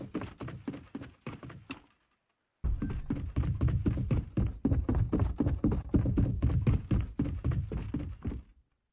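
Bass-boosted Fortnite footsteps pound loud and close in a fast, even running rhythm, a heavy series of thuds broken by one short pause.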